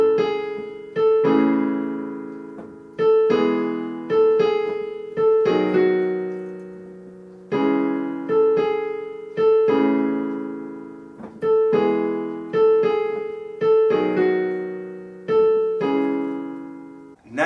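Solo piano playing a simple five-note version of a song, clear repeated single notes and held chords in a steady phrase pattern, close and alone with no voices.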